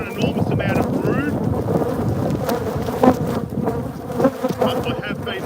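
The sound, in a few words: honey bees buzzing around the hive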